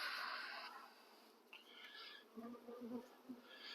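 Honeybees buzz faintly around a lifted frame from a hive during a Doolittle-style split, a soft droning hum with a few closer passes, heard alone.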